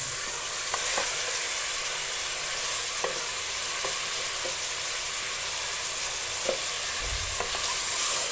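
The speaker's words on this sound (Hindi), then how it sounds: "चिकन को अगर आप ऐसे फ्राई कर लेते हैं" Boneless chicken breast pieces frying in a pan, a continuous close sizzle with light crackles and occasional stirring taps, with no voices.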